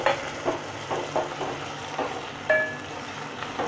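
Chopped potatoes and onion sizzle softly in a pan, with a spoon scraping and stirring them in a steady rhythm about twice a second, close and moderately quiet.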